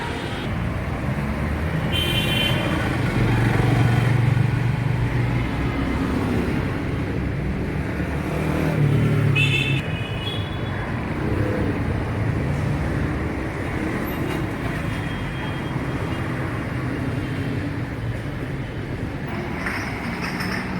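A Toyota Aqua's 1.5 liter, 1500 cc hybrid engine runs steadily with a continuous low rumble at moderate level, with no talk over it.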